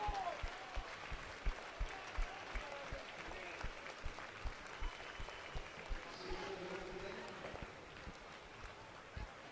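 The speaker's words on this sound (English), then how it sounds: "The Flyers players will take the applause from both sets of fans here in Murrayfield tonight." Ice hockey fans in the Murrayfield arena in Edinburgh applaud the Fife Flyers players, a sustained clapping crowd heard at a moderate distance with rhythmic thuds through it and voices mixed in.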